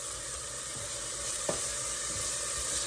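Onions and peppers, cooked with celery over medium-high heat, sauté in a pan with a steady, close sizzle. There is a faint stir or scrape partway through.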